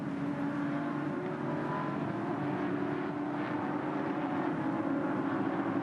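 V8 utes racing at Queensland Raceway, a sustained loud roar of race engines blending into a continuous drone with a slight swell, heard from a distance, without commentary.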